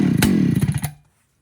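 A Husqvarna 395 XP chainsaw engine fires briefly in a short burst of sharp popping strokes, loud and close, then stalls into silence within a second.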